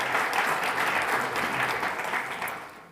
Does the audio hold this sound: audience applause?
yes